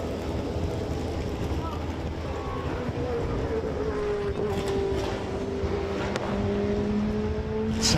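A racing car engine at the Silverstone Festival drones steadily at a distance, its pitch slowly shifting as it passes, with faint crackles of overrun toward the end.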